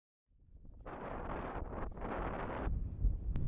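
Strong wind in Scandinavia near Nordkapp gusts over the microphone in broad roaring bursts, rising after a moment of quiet, loud and close with brief dips between gusts.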